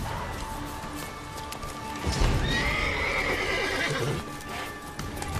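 A horse in The Witcher 3 video game whinnies loudly over the clip-clop of its hooves, with a sharp impact near the middle and the galloping continuing afterward.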